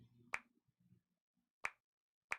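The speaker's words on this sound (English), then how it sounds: "One awkward clap, of course." A single sharp snap-like hand clap sounds in a quiet concert hall after a performance, followed by two more isolated crisp claps spaced well apart, with a faint low murmur early on.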